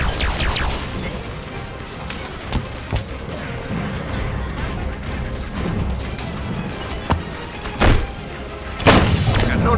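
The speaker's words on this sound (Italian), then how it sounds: "Cannone abbattuto! Ancora due!" Explosions and heavy gunfire as a turret cannon is destroyed in the video game Halo 5, with several sharp booms and crashes over continuous battle noise, loudest blasts near the end.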